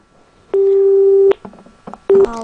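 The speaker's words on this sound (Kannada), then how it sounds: "ಫೋನ್ ಕಟ್ ಆದಂತಹ ಸಂದರ್ಭ ಆಗಿದೆ ಇಲ್ಲಿ ಟೆಕ್ನಿಕಲ್ ಇಶ್ಯೂ ಆಗಿರೋದ್ರಿಂದ" A telephone line drops during a live news phone interview, leaving loud, steady busy-tone beeps separated by brief gaps of line noise.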